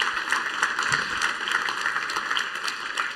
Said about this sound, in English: Big applause for Arno still.